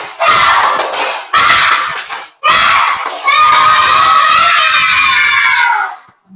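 Group of schoolchildren doing an enthusiastic spirit clap and cheer in a classroom, loud rhythmic clapping and shouting in several bursts, close and energetic, fading out at the end.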